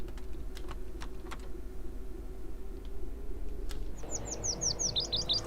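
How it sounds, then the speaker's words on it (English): Birds in a Train Sim scene begin chirping about four seconds in, a quick run of bright repeated tweets laid over soft keyboard typing clicks and a low steady cab hum. "Oh, stupid birds!"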